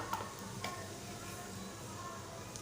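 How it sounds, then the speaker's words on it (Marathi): Pinch of asafoetida and cumin seeds sizzling in hot oil in a pan for a Marathi-style tomato bhaji, a steady low crackle with a few brief clicks, fairly soft and without talk. "तेल गरम झालेलं आहे आता मी चिमूटभर हिंग जिरं"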